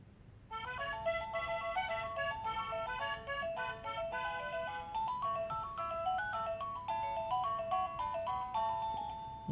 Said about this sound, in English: Now, when we press this, it should be the new ringtone that we just chose.